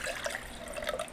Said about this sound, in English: Let's pour a little water